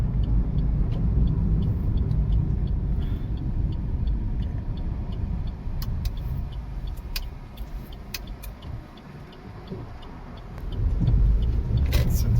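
A car drives along a road, its steady low engine and tyre rumble close and continuous, easing slightly near the end and then swelling again, with a few faint clicks from inside the cabin.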